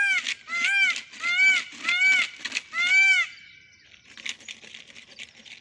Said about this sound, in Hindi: गाइस ये तो मोर का साउंड था।